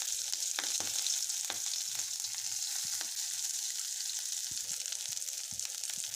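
Green chillies, onion and bay leaves fry in oil with a soft, steady sizzle, broken by scattered crackles and stirring clicks, close by with no voices.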